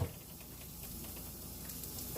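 Onions frying in a pan for a vegan steak, a soft steady sizzle with light crackling patter, faint and even throughout.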